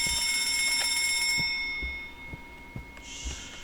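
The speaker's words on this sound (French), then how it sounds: "Quand vous activez une alarme, ça l'attire." Alarm in the Escape the Backrooms video game rings with a bright, steady electronic tone for about a second and a half, then cuts off, leaving faint thuds and a brief hiss.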